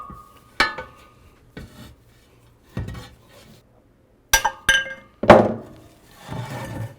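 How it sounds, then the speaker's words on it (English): Metal tapping on a heated aluminum rear wheel hub of a BMW R90/6 motorcycle as the bearings and spacers are driven out: several separate sharp clinks and knocks, some in quick pairs, close and fairly loud with quiet gaps. "I've heated the hub to expand the aluminum, and now we should be able to just tap everything right out"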